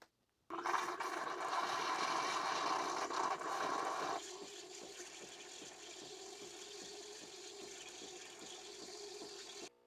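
A Nespresso Vertuo Lattissima froths milk into a cup, starting with a loud steady hiss that drops after a few seconds into a quieter whirring with rapid rhythmic clicking, close by and without talk.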